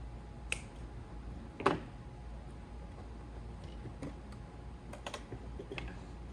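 Cutters snipping through the stock fuel pump line on an AWD Dodge Demon, a few sharp isolated clicks and one louder snap against a quiet background hum, no talk.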